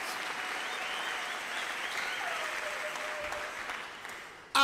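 A church congregation at a Christian assembly breaks into sustained applause, a steady wash of clapping filling the room at even loudness throughout, with faint voices and a brief held tone mixed underneath.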